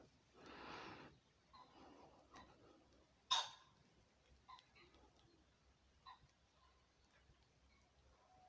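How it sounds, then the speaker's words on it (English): Outdoors in nature, a pheasant and assorted other birds call faintly at a distance, scattered through quiet ambience, with one sharper, louder call near the middle. "You can probably hear that pheasant in the background."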